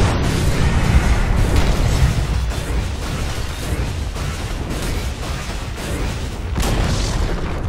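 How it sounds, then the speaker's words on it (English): A tower crumbling in Dota 2, heard as a dense, sustained rumble of booming, explosive crashes and debris that runs loud and continuous throughout, with swells near the start and end. "Dire's bottom tower has fallen."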